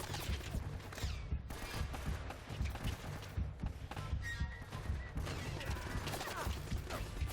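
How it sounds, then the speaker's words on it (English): Machine-gun fire rattles in Uncharted: Drake's Fortune, with rapid, repeated bursts of shots and thuds running throughout at a moderate distance and no talking. "Ah, that's a machine gun."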